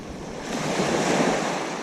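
Ocean waves wash onto a beach on a Langkawi, Malaysia morning, a steady broad surf roar that swells slightly midway and holds, with some wind noise and no voices.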